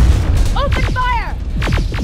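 Gunfire and heavy booms in Terminator: Resistance, with repeated sharp blasts and sweeping tonal whines, close and loud, with shouted voices mixed in.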